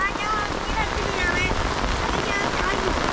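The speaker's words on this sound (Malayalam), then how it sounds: "നല്ല ശക്തമായ മഴയാണ്" Heavy rain pours down steadily on a pond in Kerala in a dense, hissing wash, with faint voices barely audible beneath it.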